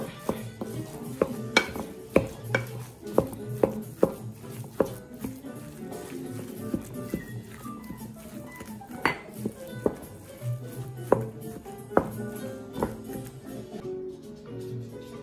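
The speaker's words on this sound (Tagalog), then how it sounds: "Tapos, haluin po natin ng mabuti ulit." Lumpia filling with chorizo and soy sauce being mixed in a bowl: a spoon clinks and knocks against the bowl in irregular bursts over a low continuous rustle of the mixture, close and fairly loud.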